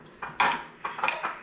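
A utensil clinks and scrapes against a bowl while egg yolks and cream cheese are stirred together, in a few close, uneven strokes with no talking.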